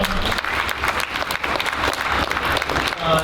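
A crowd applauds steadily at a live roast event, dense clapping filling the room for a few seconds, with some voices mixed in.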